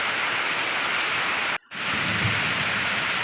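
Heavy rain pours down in a dense, steady hiss, loud and close, broken only by a brief cut partway through, with no voices.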